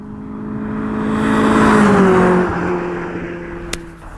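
A Honda CRX Del Sol with a VTEC engine heard from inside as it drives through roundabouts, its engine note rising and falling with throttle, steady road hum underneath and a brief click near the end.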